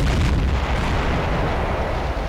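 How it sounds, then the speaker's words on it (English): Artillery shells explode in the naval game Silent Hunter 3 as a continuous loud, rumbling roar of blasts with no distinct separate impacts. "And then sporadic explosions as the shells hit them."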